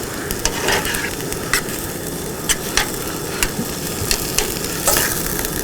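A spoon stirs sloppy joe mixture with tomatoes in a hot pan, giving a steady sizzle broken by sharp, scattered scrapes and clicks of the utensil against the pan, up close.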